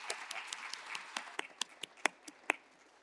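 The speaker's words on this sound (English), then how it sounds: "I think we should clap one more time." Scattered clapping from a church congregation on Palm Sunday, a sparse run of distinct individual claps, moderately near and fairly quiet, with a few sharper claps standing out.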